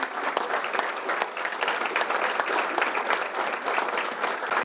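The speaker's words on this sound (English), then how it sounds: "I'd like to at least give a round of applause to the board members" Sustained applause from an audience at a chamber of commerce legislative breakfast, dense, even clapping filling the room for several seconds with no voices over it.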